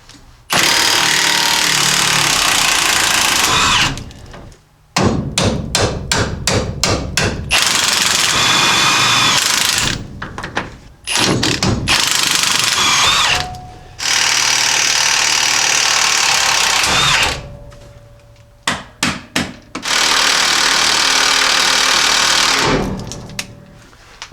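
Close, loud power tool hammers away at rusted leaf spring bolts on a 1978 Jeep J10, running in long sustained bursts with short rapid stuttering pulses and brief pauses in between.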